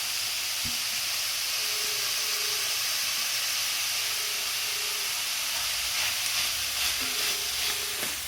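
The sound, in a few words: bitter gourd frying in a pan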